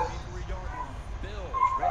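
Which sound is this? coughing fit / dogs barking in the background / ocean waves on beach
dogs barking in the background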